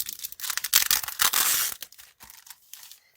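Thin vellum specialty paper is handled and crinkled up close, giving bursts of crisp rustling and crackling over about three seconds before easing into quieter, sparser crinkles.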